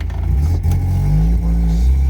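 Mazda Miata engine, running very rich, accelerating while driving: a loud, close engine drone climbing in pitch through a brief surge, heard from inside the car with no voices.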